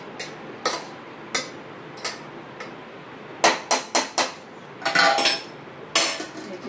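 A pressure cooker lid is fitted onto the pot of rice and prawns for steamed prawns, making a string of sharp metallic clanks and knocks, some spaced out and a quick cluster near the end, close and fairly loud.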